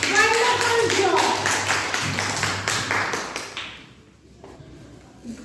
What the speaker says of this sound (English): Clapping for yourself.